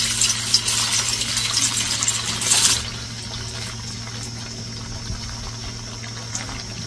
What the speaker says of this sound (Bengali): তেল গরম হয়ে গেছে, এবার পনিরগুলোকে ভেজে নিচ্ছি।